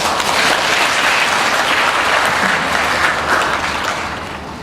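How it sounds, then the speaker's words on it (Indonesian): Thick, sustained applause from a training seminar audience fills the room evenly, loud and steady before tapering slightly toward the end. "Tepuk tangan kepada Anda semua"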